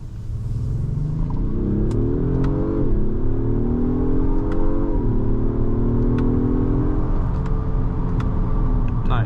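A 2025 Acura MDX Type-S hums at a steady, loud engine drone through a slow U-turn. The pitch rises and dips with throttle changes, and light interior clicks sound over it, with no talking.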